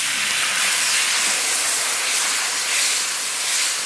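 Loud, steady hiss of water hitting hot masala in a pan, sizzling continuously without pause while a stingray curry cooks.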